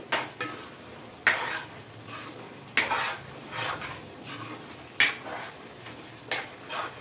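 Gongura chicken fry is stirred in a pan with a metal spoon, giving sharp scraping clanks every second or two over a low, steady sizzle; no one speaks.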